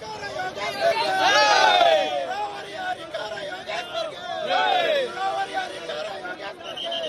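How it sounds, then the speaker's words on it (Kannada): A crowd cheers and shouts at a by-election result, with loud swells of voices and whoops rising and falling over steady background babble. "ಹರ್ಷೋದ್ಗಾರ ಅಂತೂ ಮುಗಿಲು ಮುಟ್ತಾ ಇದೆ"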